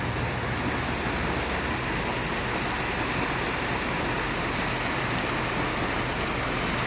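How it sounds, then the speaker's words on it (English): A small creek flows beside a hiking trail near a reservoir in Montana, giving a constant, loud rushing wash of water with no breaks and no voices. "Nice little creek."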